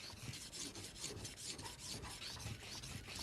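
A knife blade is sharpened on a sharpening plate with quick, rhythmic rasping strokes. The scraping is close but quiet and repeats steadily throughout, with no voices.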